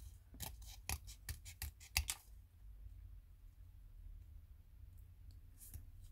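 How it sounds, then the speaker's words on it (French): Small scissors snip in a quick run of crisp, close cuts, then things fall nearly silent apart from a couple of faint clicks. "les petits ciseaux comme ça, c'est super bien pratique"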